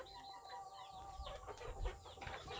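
Chickens on a poultry farm cluck faintly and repeatedly in short, irregular bursts. Soft background noise sits underneath, and there is no talk.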